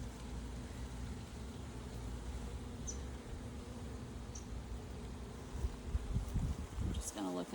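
Honeybees hum steadily around an open hive during an inspection, a faint, even buzz that runs the whole time, with some nearby handling sounds near the end.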